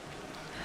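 Rain falls steadily in the video game A Highland Song, a faint, even hiss over a brief moment with no distinct drops standing out.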